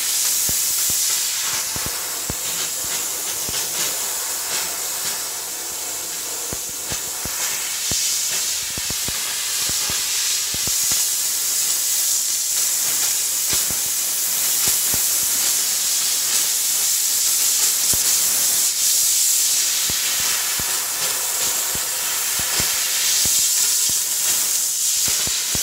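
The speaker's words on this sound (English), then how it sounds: "that water will convert to dry vapor steam" A dry vapor steam cleaner works over a ladies' bathroom, its close, loud hiss running without a break and swelling slightly now and then.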